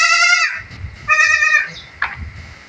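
Young goats on a goat farm bleating, two loud close bleats a second apart followed by a shorter cry, with rustling and shuffling from the pen between calls.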